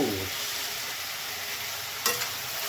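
Tomatoes hit a hot pan of frying masala for biryani, a continuous close sizzle with a brief sharp spatter burst near the end, no talk.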